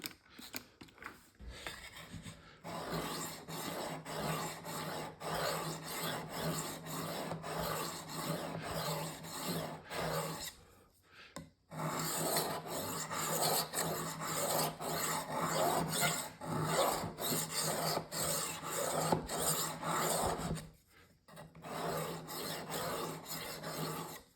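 A knife blade scrapes back and forth across a finer 600-grit sharpening stone in steady, close rasping strokes. Two short pauses break the strokes into three long bursts.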